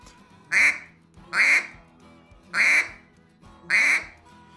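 A duck call blown to imitate a mallard hen gives four evenly spaced, loud, nasal quacks, each a short burst with a gap of quiet in between, with no talking.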